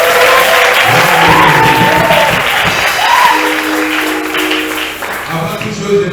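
A church congregation claps steadily in loud, continuous applause, with a voice calling out over the clapping and background sound that fades slightly toward the end.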